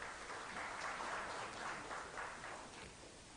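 Audience at a ministerial conference on the IGAD youth policy framework applauding, a steady, fairly quiet wash of many hands clapping that holds evenly throughout without talk.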